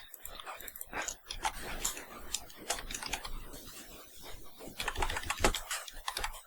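Rapid, irregular clatter of keys on a computer keyboard while entering AutoCAD commands, close and fairly quiet, with brief pauses between bursts.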